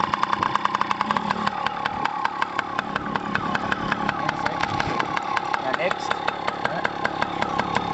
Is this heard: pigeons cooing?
no